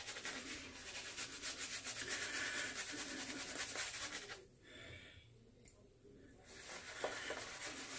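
A RazoRock Black Hawk V.2 razor scrapes softly across a head lathered with Lea shave stick soap. The close, quiet strokes come in repeated rough rubs, with a short lull partway through.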